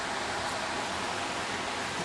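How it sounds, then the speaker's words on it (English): Small waterfall near a cottage in Cumbria, a steady broadband rush of falling water, continuous and even, with no other sounds. "It's just a mini waterfall."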